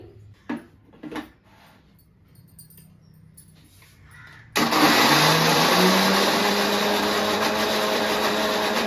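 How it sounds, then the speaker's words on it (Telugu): After a few soft knocks and quiet handling, a mixer grinder grinding spices starts abruptly and runs loud and steady, whirring continuously to the end. "ఈ మిక్సీకి అయితే వేసేసుకోవాలి"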